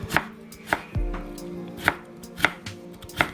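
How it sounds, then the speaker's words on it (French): A knife slicing cabbage leaves into fine strips on a board for kimchi, sharp regular chops about every half second, close and clear with a low thud underneath, no speech. "Préparer en lamelles finement possible"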